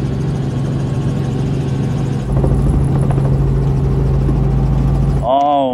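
An A-29 Super Tucano turboprop plane flies over the Freedom 500, a loud, steady engine drone throughout that swells midway, with a voice starting right at the end.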